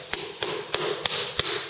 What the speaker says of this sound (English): what I want to do is hammer this down